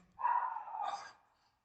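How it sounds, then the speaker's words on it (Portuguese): A dog gives one single bark with a short whining tail, fairly close and clear against a quiet background. "Cachorro insuportável aqui."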